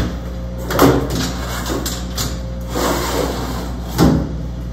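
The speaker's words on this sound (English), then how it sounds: "To put the honeycomb tray back in, you just lift it and put it back in there" A honeycomb tray is lifted and set back into an Aeon Mira 9 commercial laser cutter, giving a few sliding, clunking knocks with two sharper impacts over a steady machine hum.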